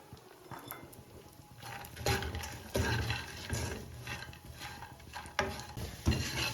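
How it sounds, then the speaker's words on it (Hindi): Raisins frying in ghee, a low sizzle with repeated spatula scrapes and knocks against the pan at an uneven rhythm, close and fairly quiet, no talking. "इसकी 1 टेबल स्पून हमने घी डाला है और इसमें ये 1 कप किशमिश है, ये भी हम शामिल कर देंगे और इसको हमें फ्राई कर लेना है"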